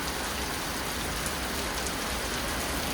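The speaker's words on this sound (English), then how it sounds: "that rain's coming down pretty good now. It's getting a lot harder." Heavy rain from a thunderstorm at a lake, pouring steadily as a dense, even hiss of drops on surfaces without a break; no voices, no thunder.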